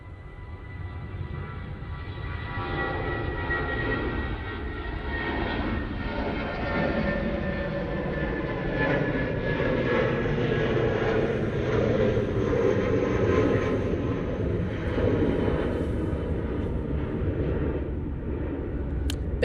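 An airliner departs Manchester Airport heading back to Heathrow, a sustained jet rumble with a faint whining tone that swells gradually toward the end, with no talking.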